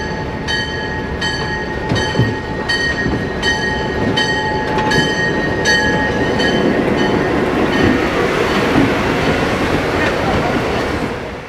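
A diesel passenger train pulls into a station platform at a railway museum depot, its rumbling engine and rolling wheels loud and steady throughout, with high tonal squeals and metallic ringing over the approach.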